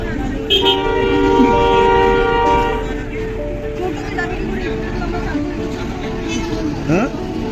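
A train approaches through a crowded spot, its horn sounding in sustained toots over a steady rumble, with people talking nearby.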